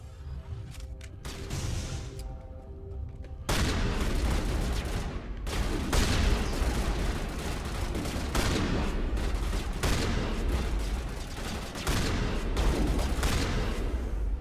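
Rapid shotgun blasts and heavy gunfire crack through a firefight in the video game Mass Effect Legendary, loud, dense bursts following a quieter opening with sparse shots.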